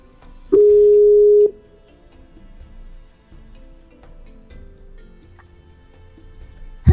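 Skype call tone on a computer: a single steady tone lasting about a second, followed by quiet clicks and a thump at the end, with no talk.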